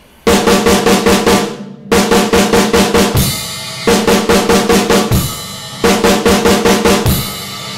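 A drum pattern of fast, evenly spaced hits with added left hand in four repeating bursts, loud and close, with brief gaps between the phrases.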